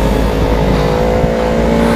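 Ducati 1299 Superleggera motorcycle on a race track, engine loud and close with a steady droning roar and shifting harmonics as it downshifts two gears, no voices.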